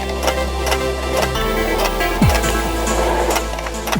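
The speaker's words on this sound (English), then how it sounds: "Now it is just time to use my brad nailer and to nail this back on." A brad nailer fires a few sharp shots while nailing a thin luan panel back in place inside a camper, over a busy, loud background of workshop noise.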